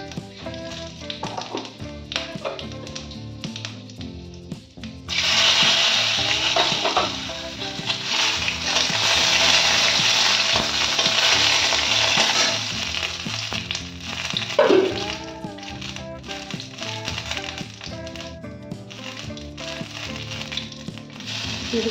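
Dried red chillies and panch phoron (Bengali five-spice) dropped into hot oil in a home kitchen: a quieter stretch of taps gives way to a loud, dense sizzle that holds, with occasional stirring clatter and no voices.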